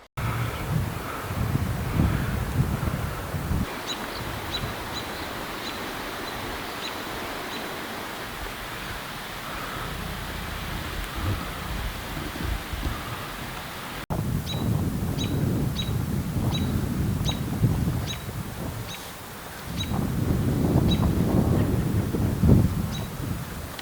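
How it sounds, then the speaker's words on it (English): Strong prevailing wind gusts steadily along a bush line as thunderclouds roll in, a broad, continuous roar buffeting the microphone, with faint bird chirps above it and no talk. "Got a real strong prevailing wind here as these thunder clouds come through."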